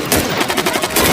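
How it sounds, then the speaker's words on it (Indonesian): Rapid bursts of gunfire during a shootout in the film Seized, with loud, dense shots repeating in quick succession, close and harsh. "terjadi baku tembak antar mereka"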